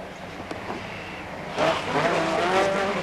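A 1988 Opel Manta rally car revs up at a circuit event, its engine note rising sharply as it accelerates toward a left-hand corner, heard at moderate distance with a faint tyre squeal.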